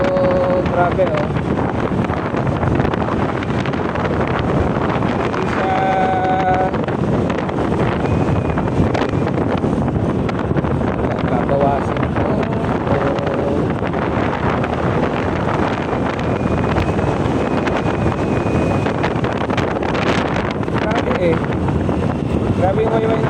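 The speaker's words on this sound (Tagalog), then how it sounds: "Grabe yung wayway ng hangin" Strong wind buffets the microphone continuously while riding a Honda motorbike on the road, a loud, steady roar throughout with a voice talking over it.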